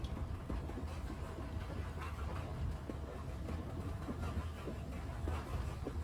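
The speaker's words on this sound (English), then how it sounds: "The train climbed higher." A Royal Scotsman train travelling along the rails, a steady low rumble with faint rhythmic clicks of wheels over track joints, continuous and fairly quiet throughout with no talk.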